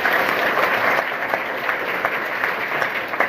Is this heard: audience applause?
yes